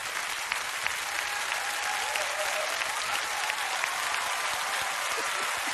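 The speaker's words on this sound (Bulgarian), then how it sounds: "Дами и господа, аплодисменти" Studio audience applause at a Bulgarian comedy sketch show, dense continuous clapping from many people that stays even and full throughout.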